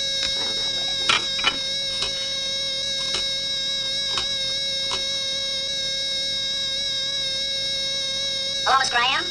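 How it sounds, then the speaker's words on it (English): A steady, high-pitched electronic alarm tone drones continuously for the yellow light alert in a 1963 school office, with faint talking and clicks over it. "Is that your yellow light alarm? Yes, I can hear it."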